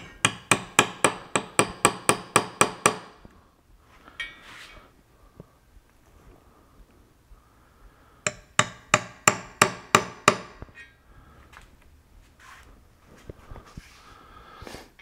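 A hammer taps a punch to mark a hole centre while an epoxy river coffee table is being built, with a quick run of about a dozen sharp, close strikes, a pause, then a second rapid series.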